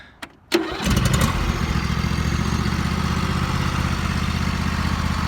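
A John Deere L118 automatic riding tractor engine cranks briefly, catches and settles into a loud, steady idle that runs alone to the end.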